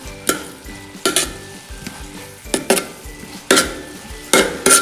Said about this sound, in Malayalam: എന്തായാലും ഇത് നന്നായിട്ട് ഇങ്ങോട്ട് ഇളക്കി മറിച്ചെടുക്കാം.